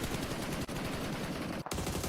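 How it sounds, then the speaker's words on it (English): Dense, continuous automatic gunfire from a PUBG Mobile esports match, a loud unbroken roar of rapid shots with one brief gap near the end and no talk over it. "Just blasting the bullets out, as is Schweppes"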